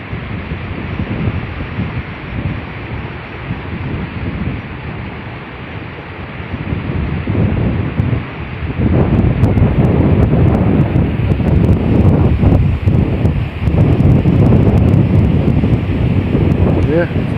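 Water flows steadily at an old sawmill in Acushnet, Massachusetts, in winter: a broad, constant rushing wash that swells louder partway through, with wind buffeting the microphone.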